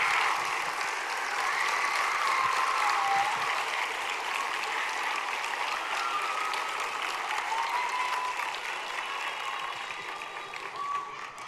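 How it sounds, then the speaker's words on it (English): A school spring concert audience gives a long round of applause for the student performers, steady dense clapping at moderate distance that slowly thins out near the end. "can we have one more huge round of applause for all of our wonderful kids in the back?"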